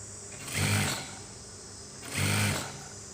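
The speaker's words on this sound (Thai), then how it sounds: "เราก็จะเริ่มเย็บโดยประมาณ1เซนที่เราเผื่อไว้" A sewing machine stitches a shirt sleeve onto the body in two short bursts of fast whirring motor hum, each under a second long, separated by quiet pauses.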